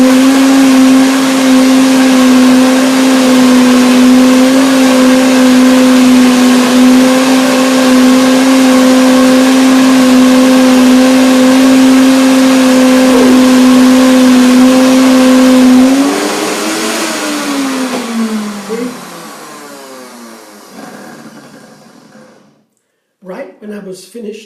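A blender whirs loudly at a steady pitch while mixing raw vegan carob mousse, then its tone lifts and fades as the blades spin free, and it stops with faint clatter at the end.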